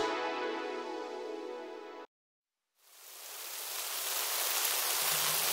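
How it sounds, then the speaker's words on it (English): Rain in a children's cartoon, a loud steady hiss of falling rain rising in after a brief silence, preceded by a sustained musical tone. "Aw, it's raining!"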